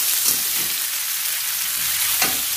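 Carrots stir-fried in a pan for vegetarian noodles give a steady, loud hiss of sizzling oil, with a few soft scrapes of stirring and no talk.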